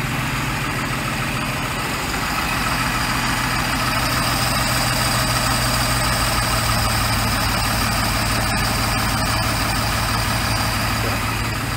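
A repowered 1990 Four Winns 180 Horizon boat with a 4.3 OMC Cobra engine idling low, a loud, steady close-up rumble with an even throb that runs unbroken throughout.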